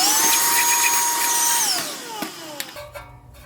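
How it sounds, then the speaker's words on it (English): A vacuum cleaner gives a loud motorized whine with a steady high pitch while cleaning litter from a 2004 Dodge 2500 diesel truck, then winds down in pitch and fades, leaving brief clicks and knocks near the end. "take the vacuum cleaner and vacuum out all the litter."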